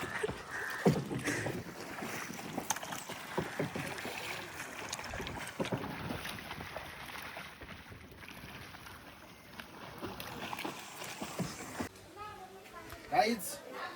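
A small rowing boat moves across the water while people chat and laugh over it, with gusts of wind buffeting the microphone and soft water sounds running underneath.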